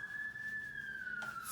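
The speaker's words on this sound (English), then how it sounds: "again, sorry about the ambulance." An ambulance siren passing outside an apartment, heard as a faint, steady high wail that drifts slowly lower in pitch, distant and alone with no talk over it.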